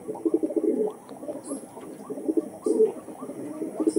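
Pigeons coo in a steady, burbling series of low throaty calls, close and fairly loud, with short pauses between phrases and no voices.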